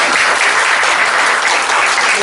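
Workshop audience applauding after a lecture: loud, dense, continuous clapping from a full room that holds steady without a break.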